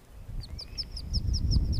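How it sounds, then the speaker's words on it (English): A baby duck by a creek peeps in a quick, regular series of about eight high, thin calls, close by, over a low rushing rumble of flowing water. "Oh, guys, look, it's a little baby duck."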